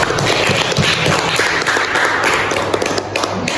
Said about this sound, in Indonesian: beri aplaus sama temannya